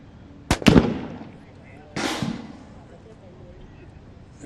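A sniper rifle fires at a SWAT shooting challenge in the UAE: a sharp, loud report followed by a rumbling echo, then a second softer blast about a second and a half later, outdoors with light background noise.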